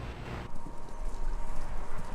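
Galloping hooves drum in a fast, continuous rhythm, dense and rumbling, as if several horses are running together nearby, heard over a radio station in the video game Kentucky Route Zero.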